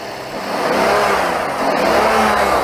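A powerful Rolls-Royce Dawn V12 engine revs up hard, its roar swelling, easing slightly, then climbing again, loud and close with no voices.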